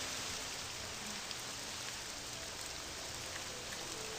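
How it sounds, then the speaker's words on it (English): Steady rain from The Elder Scrolls III: Morrowind, an even broadband hiss of falling drops holding constant at a fairly loud level with no voices over it. "Yeah, the rain is very loud."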